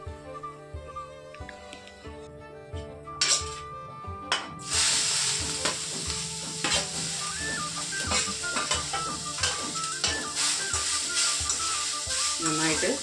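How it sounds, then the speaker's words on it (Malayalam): Grated beetroot frying and stirred in a pan over popped mustard seeds, a steady sizzle with scraping stir strokes building louder midway and continuing, with background music throughout. "ഇനി നമുക്ക് അരിഞ്ഞു വെച്ച ബീട്രൂട്ടില്ലേ അതിടാം കേട്ടോ."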